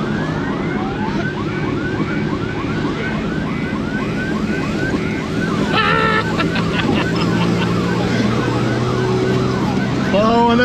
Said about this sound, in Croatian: Pazi, upalija je sirenu u Ladi